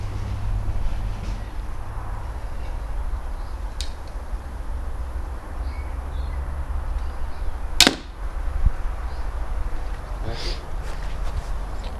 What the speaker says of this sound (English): Second shot with the Armex crossbow went 962 pages in.